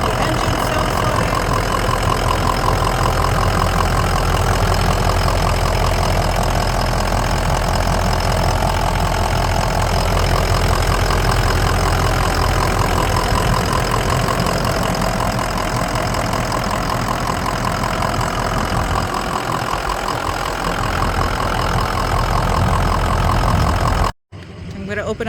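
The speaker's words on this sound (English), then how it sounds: "So this is what the engine sounds like." A 2003 Ford Excursion diesel engine idles steadily nearby, its dense, even rumble holding for about 24 seconds before cutting off abruptly near the end.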